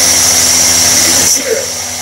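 SDS rotary hammer drill boring in steady operation, a loud continuous high whirring grind close by that cuts off abruptly partway, leaving quieter room noise.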